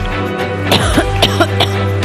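A few sharp coughs from people on a winter-health TV panel, demonstrating how they cough, ring out as distinct bursts over a steady low studio hum.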